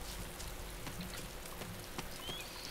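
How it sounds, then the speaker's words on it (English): Steady rain falling in the survival game DayZ, a constant dense hiss of drops pattering on surfaces with faint scattered ticks, even and uninterrupted throughout. "The rain's covering our noise"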